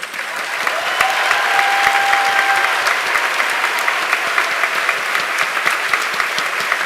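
A graduation ceremony audience for medicine and health sciences breaks into loud, sustained applause, with dense clapping filling the hall throughout.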